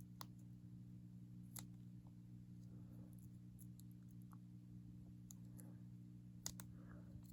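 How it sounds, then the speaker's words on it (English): Scissors snip foam to a point while tying a foam bug, faint sharp clicks scattered every second or so over a steady low hum, with no talking. "we're going to cut it so it comes to a point"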